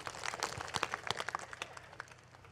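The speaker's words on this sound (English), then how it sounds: "Clap your hands three times." A group of people clap their hands in a loose, uneven burst, several sharp claps scattered over a couple of seconds, fairly faint and without speech.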